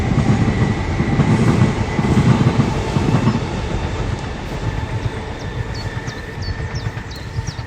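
A train rolls past nearby with a steady rumble and clattering wheels, easing slightly as it goes, while faint squeals ring out near the end.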